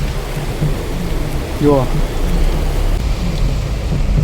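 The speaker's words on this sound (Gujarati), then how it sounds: "જુઓ આવો વરસાદ પડતો" Steady rain falls during a thunderstorm on a busy, traffic-filled street, a dense continuous wash of noise beneath brief speech and passing sounds.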